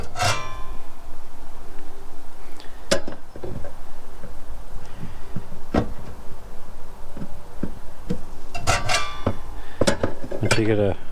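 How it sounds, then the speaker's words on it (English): Metal wrench working a stuck drain plug loose on a travel trailer's holding tank in a cramped spot, giving sharp scattered clanks and clinks amid steady background noise, with a busy burst of rattling near the end. "I'm working with a 15/16 inch wrench"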